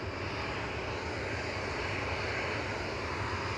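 An Embraer E190 jet at Manchester Airport gives a continuous broadband engine roar, steady and fairly distant, alone without any talk.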